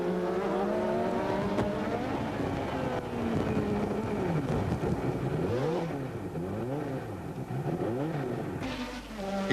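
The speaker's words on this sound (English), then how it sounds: "this is what it saw when his BMW engine's turbo blew up" BMW turbo engine in a 1987 Brabham Formula 1 car, heard onboard as it fails, with a harsh, wavering engine note that swoops up and down through gear changes, loud and continuous throughout.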